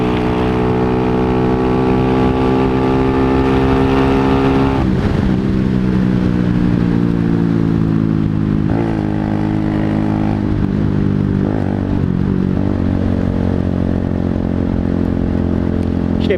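Motorcycle engine held at steady high revs, its drone sliding down then rising again with short blips, loud and continuous throughout with no clear backfire pop.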